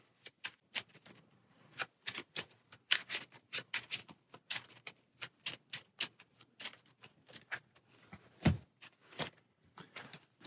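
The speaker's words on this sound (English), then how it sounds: "and shuffle and draw 2 more." Playing cards shuffled during a Marvel Champions card game, a quiet run of crisp snaps and riffles in an irregular rhythm, close and without talk.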